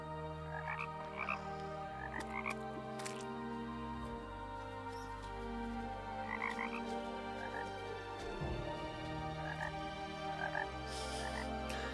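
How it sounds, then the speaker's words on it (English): A dense chorus of frogs croaking continuously in overlapping, pulsing calls, steady and moderately loud with no voices. "I just never knew how much I loved the sound of frogs."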